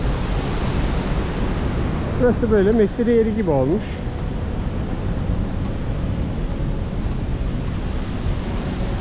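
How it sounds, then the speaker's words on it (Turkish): A waterfall at a municipal picnic and camping area in Manavgat, now walled in by concrete, heard as a steady broadband roar of rushing water throughout, with someone speaking briefly over it. "Bir de başka açıdan bakalım şelaleye."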